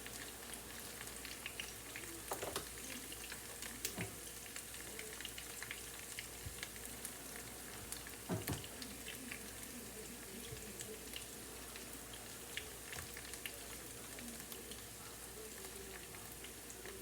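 Homemade tater tots frying in a pan, giving a quiet, steady sizzle with occasional soft clicks and pops, faint and continuous without talking.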